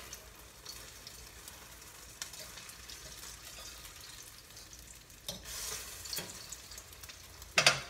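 Egg-battered chiles rellenos filled with ground-meat picadillo fry in a pot of oil with a steady, soft sizzle, broken by stirring and a few clatters of utensils, and a sharper clink near the end.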